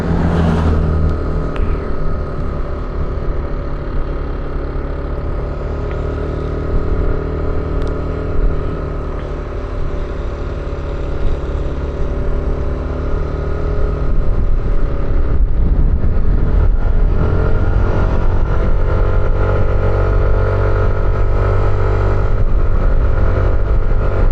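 A Yamaha Nmax G3 scooter engine drones continuously while climbing uphill on a mountain road near Phu Thap Boek, Nan, with the pitch steady at first and a louder, harder pull in the second half, loud and close throughout.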